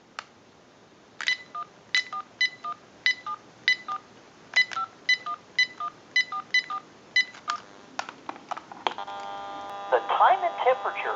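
Touch-tone DTMF dialing on a General Electric 27909 cordless telephone: a quick run of about a dozen crisp, evenly spaced beeps in small clusters, close and clear, followed by a steady ringback-like tone.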